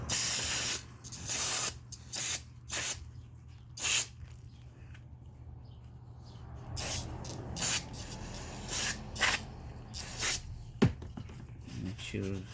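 An aerosol can of brake cleaner sprays in short hissing bursts during Honda VVT valve work. Several quick blasts start the clip, and a longer, softer hiss follows later. Talk runs under the sprays.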